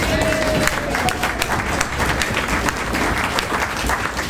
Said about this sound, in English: I want feet stomping and lots of clapping.